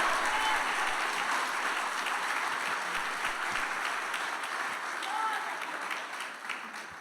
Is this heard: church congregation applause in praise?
yes